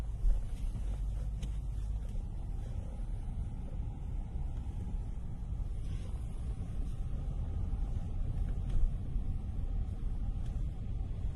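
Motorcycle riding along a road near the ocean, a steady low rumble of engine and road with wind buffeting the microphone, continuous for several seconds with no speech.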